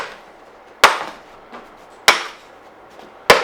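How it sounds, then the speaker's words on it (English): A chisel levers big upholstery tacks out of the edge roll on an old needlepoint piece, giving three sharp, loud cracks about a second apart, with a faint knock between them. "sometimes I like to use a chisel for this big stuff that gets underneath"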